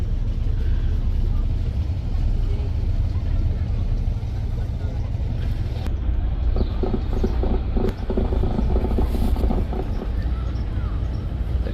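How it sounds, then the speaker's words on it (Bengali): A passenger launch turns slowly through a tight bend of a narrow, winding canal on a river trip to Dhaka, its engine giving a steady low rumble. Mechanical clatter builds partway through, with speech-like sounds mixed in. "একদম চিকন টার্নিং দিয়ে লঞ্চটি ঘুরতেছে"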